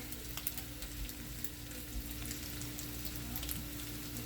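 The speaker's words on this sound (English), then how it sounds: "I'm actually going to add a little bit more sesame oil" Sesame oil sizzling in a pan of chicken fried rice with aromatics, a steady close crackling hiss with small pops throughout, moderately quiet and with no talking.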